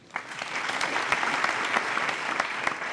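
An audience claps continuously in a hall at a live comedy stage show, dense and even applause from a full crowd with a few sharper individual claps standing out.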